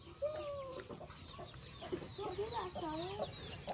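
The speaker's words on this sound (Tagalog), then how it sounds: "Dagadaming manok si father." A flock of backyard chickens on a family home's property cluck and chatter close by in a steady, overlapping stream, with a faint voice now and then in the background.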